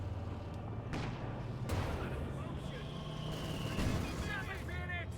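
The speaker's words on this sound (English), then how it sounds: "Mortar fire here from the mortar half-tack." Mortar rounds fired from a mortar half-track in Company of Heroes 2, a few dull booms and impacts amid continuous battle noise and other game effects, with a commentator talking over them.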